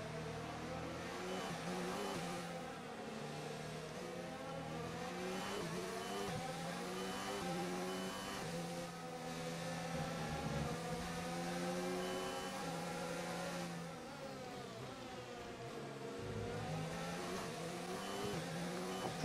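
Formula 1 car engine in the F1 2019 racing video game, a steady loud drone with repeated rising and falling pitch sweeps as the car accelerates and shifts gears, heard alone throughout.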